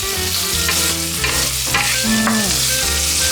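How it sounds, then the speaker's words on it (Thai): Noodles sizzle and crackle in a hot pan as a utensil stirs and scrapes through them, close and steady. "เขี่ยให้มันอยู่กลางกระทะหน่อยลูก"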